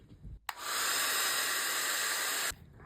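A heat tool or hair dryer clicks on and blows a steady, loud hiss of air over a freshly painted Christmas card for about two seconds, then cuts off abruptly.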